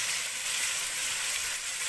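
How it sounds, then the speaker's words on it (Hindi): Minced meat (keema) sizzling in a pan for a cauliflower keema dish, a steady, dense crackling hiss holding evenly throughout at close range with no voices. "हम कीमा डालते हैं, कीमे को भून के भुनाई करते हैं कीमे की"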